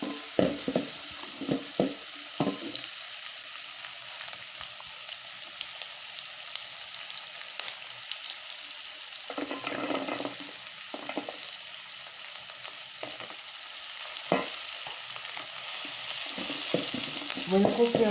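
Carrots frying in sunflower oil in a pan for spicy cabbage fried rice, a steady hiss and crackle with intermittent stirring scrapes and clatters throughout.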